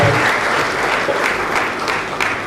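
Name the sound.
audience applause for the lecturer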